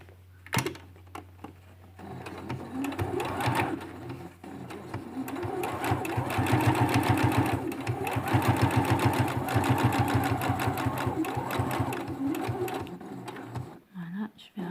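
A sewing machine stitching a fabric face mask runs in steady rapid bursts, its mechanical clatter close and loud, pausing briefly between runs while someone talks over it.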